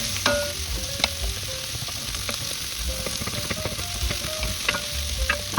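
Mixed vegetables sauteing in a hot pan over medium-high heat, a steady close sizzle broken by sharp clinks and scrapes of a utensil stirring, with no talk.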